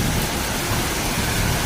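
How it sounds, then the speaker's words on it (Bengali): Heavy rain pouring down in a dense, continuous hiss, loud and unbroken throughout with no other sounds standing out. "বৃষ্টি হচ্ছে"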